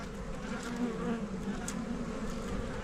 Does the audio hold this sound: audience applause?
no